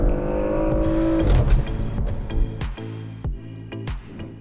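A Porsche Macan engine pulls hard while driving, its loud, steady drone broken by gear shifts and revving surges, with no talk over it.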